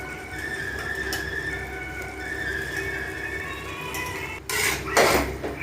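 Vegetables and chickpeas tipped into gravy in a pot for chana biryani: a brief, loud clatter and splash near the end over a steady kitchen hum.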